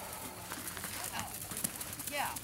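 Rhythmic hoof clip-clops at a moderate distance, fairly faint, with people talking over them.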